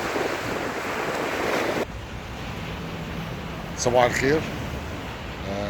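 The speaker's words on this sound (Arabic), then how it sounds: "طبعا صوت موج بحر اسكندرية ليه تأثير السحر" Sea waves breaking on the shore at Alexandria, Egypt, a steady broadband wash of surf with wind buffeting the microphone, loud at first and then a little quieter, with a brief spoken greeting near the end.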